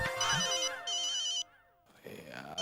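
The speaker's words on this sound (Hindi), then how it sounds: "यार ये जेठालाल को भी ऐसे टाइम पे फोन करना होता है" An electronic telephone ringtone sounds for an incoming call, two bursts of a bright warbling melody separated by a short gap, loud and close, followed by a brief lower tonal sound at the end.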